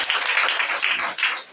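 A church congregation applauds together, a dense, steady wash of clapping that fills the room with slight swells and one brief dip near the end.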